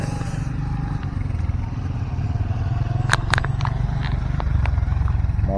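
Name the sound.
motorcycles queuing on narrow road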